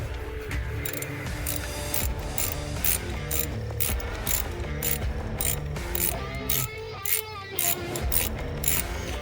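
Ratcheting tool work on a Honda Accord engine while unscrewing parts around the ignition coils and spark plugs, a steady run of rapid mechanical clicking and clatter, close and continuous with no talking.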